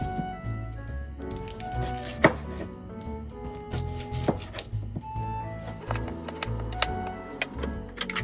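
A knife chops a block of butter into smaller chunks on a board while empanada dough is being made, giving a run of close, irregular taps and thuds with no talking.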